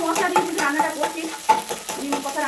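Spice paste with onion and garlic fries in oil while a spoon keeps stirring it, making a close, busy sizzle with rhythmic scraping strokes and no talking.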